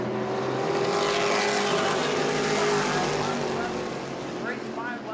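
Race cars circling the track at New Smyrna during a night race with five laps left: a loud, continuous engine roar that holds steady, with pitch sweeps from cars passing near the end.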